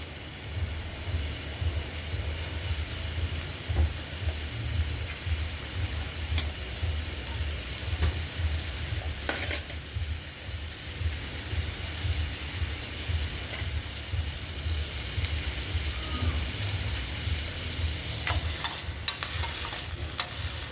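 Sliced onion and two green chillies frying in a little hot oil for a low-oil okra fry, a steady close sizzle with occasional stirring scrapes throughout, no talking.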